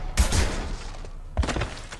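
Gunfire from a shootout in the video game Mass Effect 2, two loud bursts of shots with thumping low-end impacts separated by a brief lull, close and punchy.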